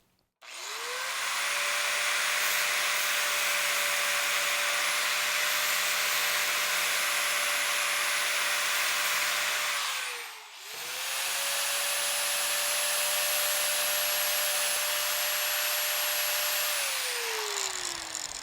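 A high-pitched grinder whines steadily for about ten seconds while trimming a Reimo fibreglass hightop to fit a Vanagon Westfalia roof, briefly winds down, then spins up again for another long pass before stopping.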